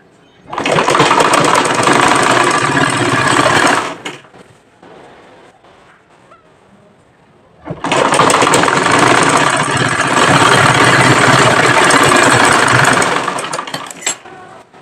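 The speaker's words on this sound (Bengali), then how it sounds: "তোমরা হয়তো একটু খেয়াল করলে বুঝতে পারবা আমি কিভাবে সেলাই করছি" A sewing machine stitching a salwar runs loud and close in two long continuous bursts of rapid whirring and clatter, separated by a few seconds of quiet.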